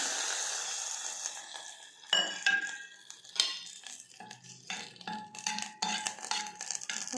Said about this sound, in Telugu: ఇప్పుడు ఈ పోపుని మనం పప్పులోకి వేసుకోవాలి